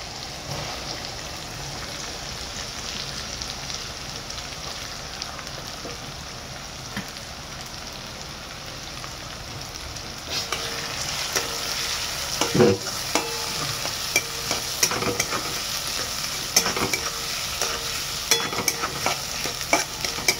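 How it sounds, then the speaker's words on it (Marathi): Onion frying with garlic paste in a pan for egg biryani, a soft steady sizzle that grows busier partway through as a spoon scrapes and stirs with scattered clinks and taps. "कांद्याला व्यवस्थित आपण भाजून घेऊ"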